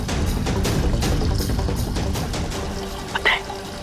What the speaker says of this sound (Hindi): अब बस नल में से पानी बहता रहेगा और टंकी खाली हो जाएगी।